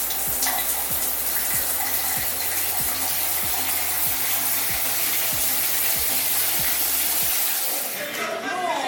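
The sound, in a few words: shower water running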